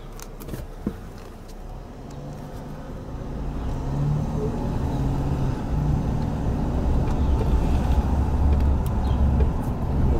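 A car drives along Church Street in Ambridge, Pennsylvania, its engine and tire rumble building steadily louder from inside the vehicle, with a low continuous road drone and no talking.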